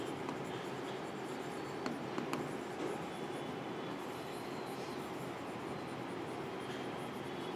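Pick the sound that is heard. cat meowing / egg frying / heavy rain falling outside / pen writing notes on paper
pen writing notes on paper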